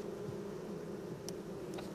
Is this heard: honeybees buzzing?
yes